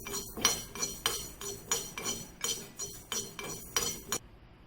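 A spoon or spatula clinks and scrapes in a rhythmic series against a heated kadai while methi seeds fry, close metallic taps about every half second, stopping abruptly near the end.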